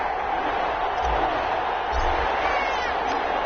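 Steady crowd roar and cheering from an NFL stadium in an EA Sports Madden game, Carolina Panthers at New Orleans Saints, a continuous dense wash of noise with low rumbles swelling briefly, no talk.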